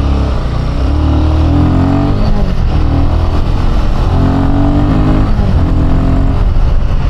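A Royal Enfield Himalayan 450 single-cylinder motorcycle engine pulls through low to mid revs in second gear, a loud, steady rumbling drone that rises and falls in pitch across the run with no talking.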